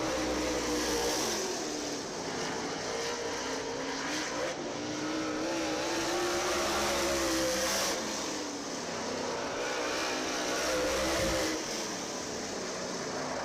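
Race car engine on a qualifying lap at County Line Raceway, a loud sustained roar that rises and falls as the car works through the track, with brief dips at gear changes; close and unbroken, no voices.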